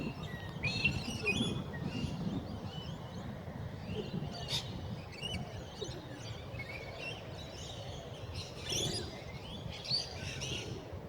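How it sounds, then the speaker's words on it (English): Outdoor birdsong with chirps and calls scattered across the clip, including a pigeon calling among other birds by a roadside near a beach, heard over steady background noise at moderate distance. "That one you can hear is a pigeon."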